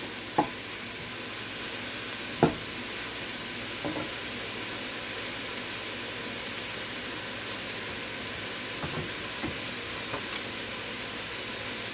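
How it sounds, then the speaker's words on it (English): Food sautéing in a pan for vegetarian turned cornmeal, a steady quiet sizzle with a few faint clinks of stirring, no voices. "So this is sauteing right now"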